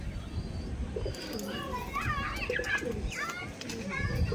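Pigeons coo softly in the background while children chatter and play loudly nearby.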